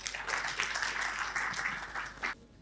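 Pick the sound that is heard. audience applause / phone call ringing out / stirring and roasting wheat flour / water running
audience applause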